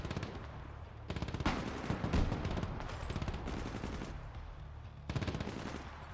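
Machine gun fire in the real-time strategy game Broken Arrow, from gunners in a forest, with sustained rapid bursts broken by brief pauses, loud and close, without talking.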